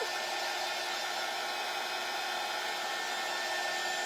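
A hair dryer blowing on a spring bunny stand craft kit piece, a loud, steady whooshing roar that holds unchanged from start to finish.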